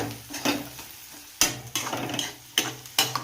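Poha being stirred into cooked potatoes in a pan, a series of scraping, clattering spoon strokes at irregular intervals over a soft sizzle. No one speaks.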